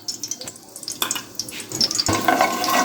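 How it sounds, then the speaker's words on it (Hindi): White cumin seeds, about a teaspoon, hit hot oil for a winter gobi matar curry, giving a steady close hiss and crackle that swells louder and denser in the final second, with no talk over it. "तो इसी ऑयल में अब हम डाल देते हैं सफ़ेद ज़ीरा"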